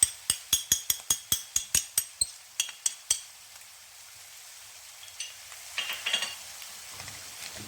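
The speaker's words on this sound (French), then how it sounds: "Je vais faire revenir tout ça." Vegetables with salt and spices sautéing in a pan, opening with a quick series of sharp utensil taps and scrapes, then settling into a soft, steady sizzle with occasional faint clatters.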